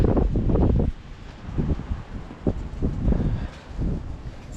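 Wind buffets the microphone in low, rumbling gusts that swell and drop, with a steady hiss beneath and no voices.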